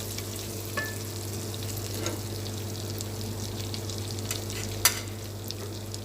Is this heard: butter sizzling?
yes